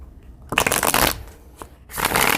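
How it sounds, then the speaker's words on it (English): Tarot cards are shuffled by hand in two brisk riffling bursts, close and crisp, with a brief tap between them and no talking. "Okay, let's clarify some of these cards, and we'll keep pulling cards for you."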